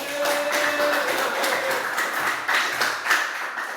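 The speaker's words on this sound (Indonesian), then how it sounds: "Coba tepuk tangan dulu." Clapping fills a classroom, a steady patter of many hands with a few sharper individual claps standing out, moderately loud and continuous throughout.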